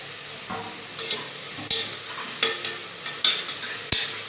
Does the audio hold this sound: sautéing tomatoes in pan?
yes